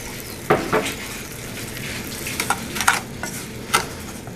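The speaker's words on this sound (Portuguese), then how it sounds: "Mexer para derreter" Margarine and sugar stirred as they melt in a pan, with soft scraping and a few sharp spoon-on-pan clinks against a low sizzling hiss.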